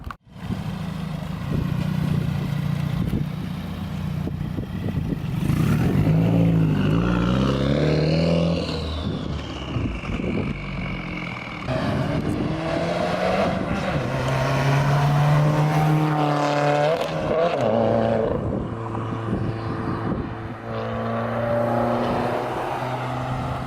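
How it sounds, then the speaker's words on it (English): A Subaru WRX driven down a street, its engine note loud and close, swelling and bending in pitch as the car passes by and then continuing to drone as it pulls away. "Let's do a little flyby with his car"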